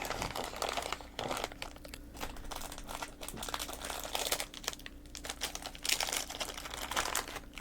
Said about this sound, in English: And I hope you like crinkly paper sounds, because that's what you got.